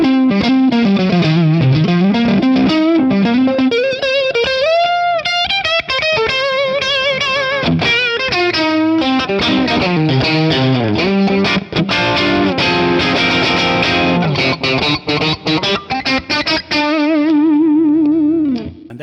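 Heavily distorted Stratocaster on the bridge pickup through a Tonex capture of a MRSH Vintage Modern amp plays bluesy licks and bends with thick gain and chorus-like shimmer, loud and continuous, ending on a held chord.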